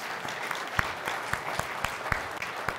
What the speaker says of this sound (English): All right, we can clap for Jonathan.